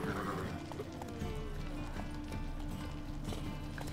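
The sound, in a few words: horse galloping in The Witcher 3 video game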